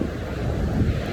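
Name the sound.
storm waves and strong wind on the shore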